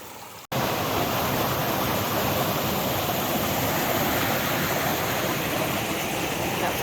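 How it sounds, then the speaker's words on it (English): A waterfall in the Grayson Highlands along the Appalachian Trail rushes in a steady, loud broadband roar that starts abruptly after a brief quiet moment and holds constant throughout, with no voices. "I had to come down here to get the pretty waterfall"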